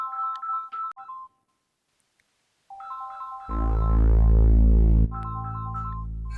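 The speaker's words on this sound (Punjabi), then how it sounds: "ਉਹਦਾ ਫੋਨ ਆ ਗਿਆ" A mobile phone ringtone for an incoming call plays loud and close, a bright electronic melody that pauses briefly, then resumes with a fuller, heavier swell before returning to the tune.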